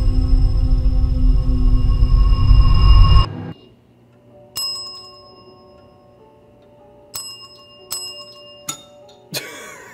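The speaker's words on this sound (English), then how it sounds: "I like tapping bells." Several bright bell taps ring out one by one in the video game Erica, each clear and close with a short decay, following a loud dense passage that cuts off abruptly.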